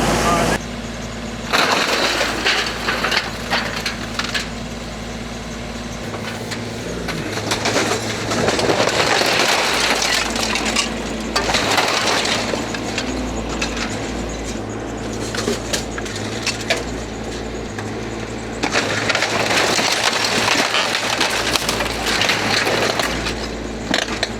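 A Chinese mini excavator pushes into and crushes a wooden house during demolition, giving bursts of cracking, splintering timber over a steady engine drone, with people talking nearby.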